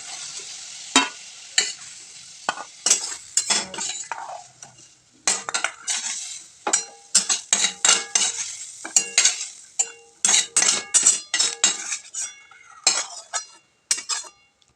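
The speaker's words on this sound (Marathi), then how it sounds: "त्याच कढईमध्ये मी साधारण दोन तीन पळ्या तेल टाकलेत त्यामध्ये जिरे टाकलेत" Hissing sizzle of cumin seeds frying in hot oil in a kadhai, punctuated by frequent metallic scrapes and clinks of a spoon stirring.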